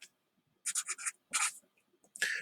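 A pen or marker scratches out a handful of short, close strokes separated by brief pauses, ending with a slightly longer stroke.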